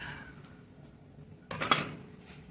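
A slab of wedged pottery clay is sliced through, giving a single brief scraping swish in the second half against a quiet room background.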